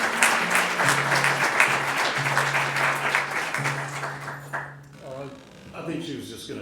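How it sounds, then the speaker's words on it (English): Audience applause at a public program on the Lafitte Greenway, steady dense clapping that mixes with a sustained low tone and some crowd noise before fading out near the end. "And so I want to give a hand clap for Jenna May."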